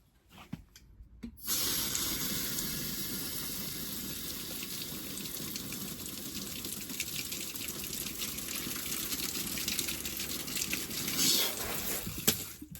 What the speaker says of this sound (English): I'll squirt some water in there, get all the propane out.